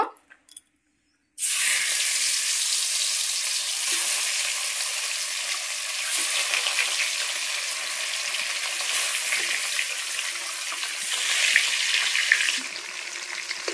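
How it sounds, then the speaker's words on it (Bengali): Fish coated with oil, salt and turmeric fries in hot oil, a steady loud sizzle that starts sharply after a brief silence and crackles continuously, swelling slightly near the end, with no talking. "তেল গরম হয়ে গেছে, আমি মাছটা দিয়ে দেব।"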